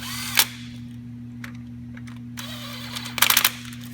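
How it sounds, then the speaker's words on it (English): Ratchet or power tool tightening bolts on the thermostat housing of a 3800 engine, heard as a short burst near the start, a faint tick mid-way, then a louder rapid clatter toward the end over a steady hum. "Let's go ahead and tighten the bolts up."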